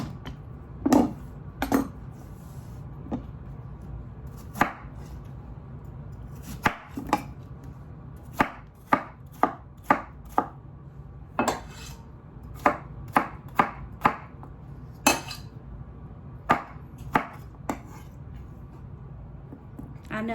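A knife chops on a cutting board while cucumber and zucchini are prepared, with a long run of sharp, irregular knocks, some in quick bursts and others spaced apart, close and distinct over faint background noise.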